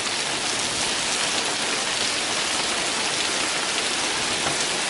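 Heavy rain pours steadily in a dense, continuous hiss, close and loud, with no voices.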